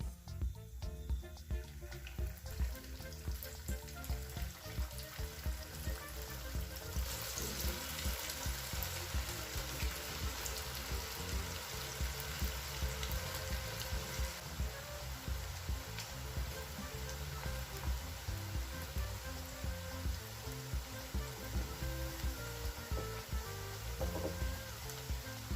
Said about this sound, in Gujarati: આપણે હવે તેને તળી લઈશું। મેં અહીં એક પેનમાં તેલ ગરમ કરવા માટે રાખી દીધેલું છે।